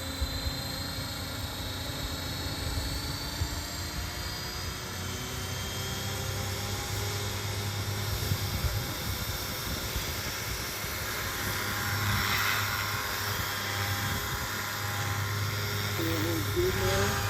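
A 500-size Bluethunder RC helicopter, fitted with new blades and a new tail unit, runs at full throttle with a steady, loud rotor and motor whine and sustained tonal hum, continuous throughout, with faint talk beneath.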